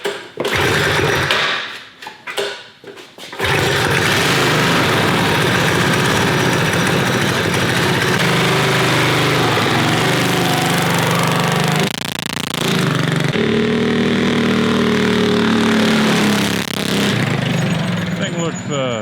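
A TrailMaster go-kart with stage 2 engine modifications starts after a short sputter and then runs loud and close, its small engine buzzing and revving continuously with rapid rattling pulses, voices occasionally talking over it.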